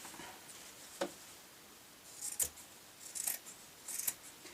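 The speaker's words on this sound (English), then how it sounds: "I'm going to cut up to the calico line with my scissors and trim away all of the excess" Scissors snipping through fabric up to a calico line while excess is trimmed away for a patchwork cosmetic bag, heard as a few soft, brief crisp cuts spaced about a second apart in a quiet room.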